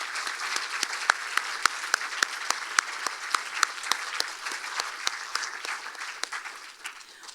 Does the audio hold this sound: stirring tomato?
no